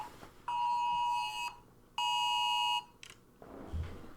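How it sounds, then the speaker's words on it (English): Loud electronic emergency alert tone blares from a phone, two sustained harmonic beeps of about a second each separated by a short gap, followed by a faint rustle. "That was an Amber Alert on my phone."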